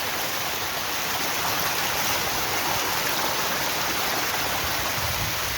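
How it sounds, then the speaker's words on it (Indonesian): Stream water flows near a waterfall, a constant loud hiss and rush of moving water with no breaks, close by and uninterrupted. "Wah, aliran airnya seger cuy."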